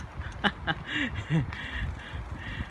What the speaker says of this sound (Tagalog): Dito rin ang daming mga ibon.